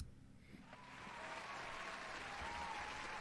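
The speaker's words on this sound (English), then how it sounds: "Always with the applause." An audience claps in steady applause that swells slightly and holds as a dense, even wash of hand claps throughout.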